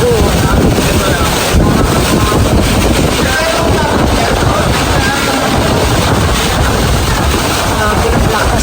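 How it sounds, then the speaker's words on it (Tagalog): Very strong wind at an outdoor 18th birthday gathering batters the microphone with a loud, unbroken roar and rumbling gusts, while faint voices are barely audible underneath. "Napakalakas ng hangin."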